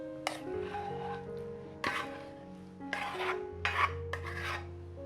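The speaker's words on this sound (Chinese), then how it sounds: "把糯米饭放到刚刚炒好的馅料里面" A utensil works glutinous rice into a freshly stir-fried vegan filling in a bowl, producing soft scraping and rubbing strokes in several separate bursts with gentle squishy texture between them, fairly quiet and close.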